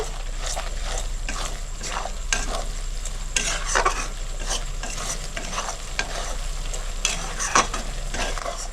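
Spices stir-fried for Bengali chicken kosha sizzle steadily in a pan, with repeated scraping strokes of a spatula and a low constant hum, close and fairly loud throughout.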